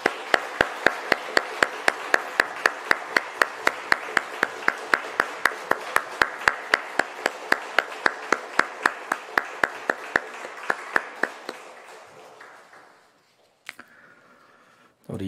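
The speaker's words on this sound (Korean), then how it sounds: "다시 한번 박수하겠습니다" A church congregation at a family dawn prayer meeting claps in a steady, unified rhythm, sharp evenly spaced claps repeating for about twelve seconds before trailing off into brief talk.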